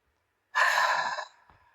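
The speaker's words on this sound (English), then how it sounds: "Breathe in deeply and breathe out." A single deep breath, drawn in and released during a calming tapping exercise, is loud and close, with a long airy exhale of about a second trailing off into quiet.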